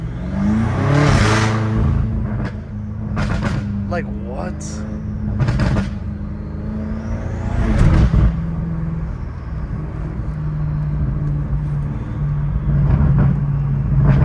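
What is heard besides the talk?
BMW M5 F90 Competition with full titanium exhaust burbling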